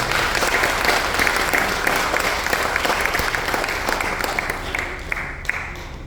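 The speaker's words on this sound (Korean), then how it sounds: "뜨거운 박수 한 번 더 보내주십시오" Sustained applause from a large congregation at a church memorial service, dense steady clapping that holds at full strength throughout and eases only slightly near the end.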